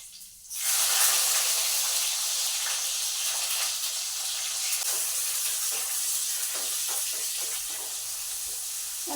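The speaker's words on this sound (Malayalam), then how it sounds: "ഇപ്പം ചിലപ്പോൾ പൊട്ടിത്തെറി ഉണ്ടാകും, കാരണം ഇച്ചിരി വെള്ളമുണ്ട്." Curry leaves are dropped into hot oil and burst into a sudden loud sizzle, then settle into a steady close hiss with scattered pops and splutters.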